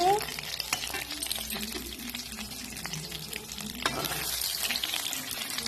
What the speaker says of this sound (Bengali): আর এক পাশে মাছ ভাজা করছি